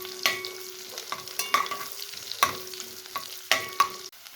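Garlic and green chili stirred in sizzling butter for a chicken curry, with a spoon scraping the pan in irregular strokes over a steady close frying hiss.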